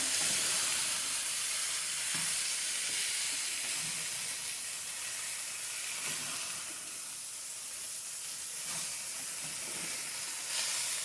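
Noodles stirred into a hot pan with chicken apple sausage and peppers, giving a soft continuous sizzle and hiss with faint scraping, close and steady, with no talking.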